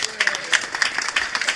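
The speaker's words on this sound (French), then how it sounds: "On va applaudir." An audience claps at the third-anniversary celebration of the PPA-CI party, a short burst of dense, lively applause close by with voices mixed in.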